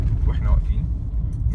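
A 2008 Jeep Cherokee rumbles low and steady from inside the cabin during a test drive, a deep continuous road and engine drone with talk over it.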